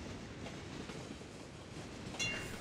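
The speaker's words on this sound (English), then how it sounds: "We finally got the trams to work." Trams run through a city in the Cities Skylines video game, a steady rolling rail rumble with faint clickety-clack and a brief bright squeal near the end, with no talking.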